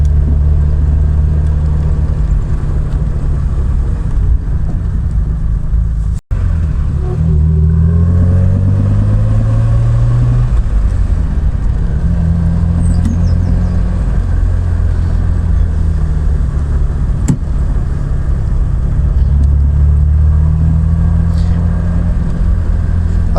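A 1967 Triumph Vitesse on a leisurely country drive, its engine humming steadily from inside the cabin with rises and falls in pitch as it shifts gears and accelerates, continuous road and wind noise throughout.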